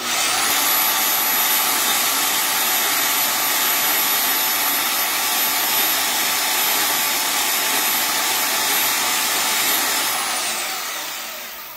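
A bandsaw hums and whines steadily, run at slow blade speed for cutting metal while making a ring, a loud, continuous broadband whir with a faint high tone that fades at the end.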